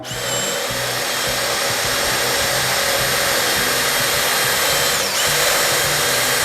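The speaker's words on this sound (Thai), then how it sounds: "ผมมาลองใช้เกียร์สอง ให้มันเร็วหมุนเร็วขึ้น แรงบิดน้อย" A PUMPKIN cordless drill spins fast in second gear, a loud, steady high-pitched whine with a motor hum underneath that continues throughout, with a brief dip near the end.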